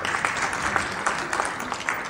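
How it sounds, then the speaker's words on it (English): Brief applause from an audience at an education talk, a moderate patter of clapping hands at a steady level, heard from some distance. "Everybody applaud her."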